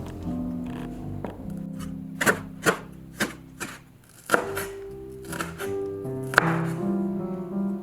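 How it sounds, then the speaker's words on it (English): A knife chops scallions into very small pieces on a board for pork and century egg congee, with sharp, evenly spaced close taps standing out against steady background music. "chop the scallions into very small pieces"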